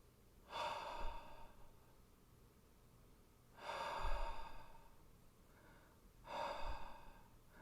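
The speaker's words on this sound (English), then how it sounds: "The most basic breath, when you really relax and you don't control anything, when you sleep, the breath is" Slow, relaxed human breathing, heard as three long, soft breaths spaced a few seconds apart, close and quiet with calm pauses in between.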